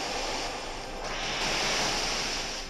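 A Pokémon Waterfall attack effect from a video game: a steady rushing surf-like water roar lasting under three seconds, swelling slightly midway.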